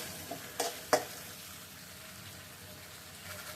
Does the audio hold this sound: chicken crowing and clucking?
no